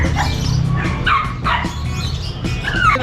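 Golden retriever dogs for sale bark and yip loudly and close by in repeated sharp bursts over a busy background hum.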